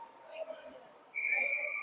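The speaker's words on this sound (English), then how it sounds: "He'll blow the whistle for an icing." An ice hockey referee blows a sharp, steady whistle to call icing during a high school game, cutting in loud midway through and holding over arena background noise.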